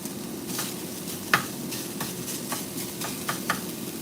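Minced beef frying in a pan, left to crisp, with a soft, continuous sizzle and a few light clicks and scrapes of stirring scattered through.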